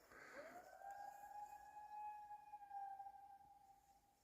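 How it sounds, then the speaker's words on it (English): A distant siren drifts through the woods near a rockhounding mine site in Ontario, rising quickly then holding one long steady wailing tone before fading, faint and far off against quiet forest ambience. "I just heard a siren."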